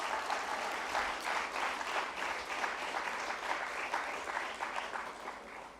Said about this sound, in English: Can we please have a huge round of applause for all our speakers?